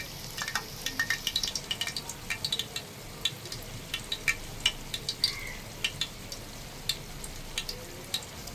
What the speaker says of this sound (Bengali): ঢেঁড়স ভাজি করব, শুকনো মরিচ দিলাম।